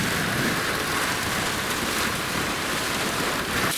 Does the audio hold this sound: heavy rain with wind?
yes